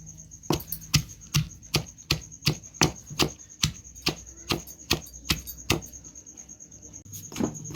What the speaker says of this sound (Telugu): ఈ ఉల్లిపాయ ఎల్లిపాయ ఇవన్నీ ఇలా దంచాలి మెత్తగా